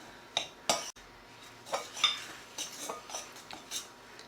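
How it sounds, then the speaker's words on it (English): An ordinary table knife mixes suet pastry dough in a bowl, giving a series of close clinks and scrapes against the bowl in an uneven rhythm, fairly quiet with no talking. "using an ordinary table knife, start mixing together"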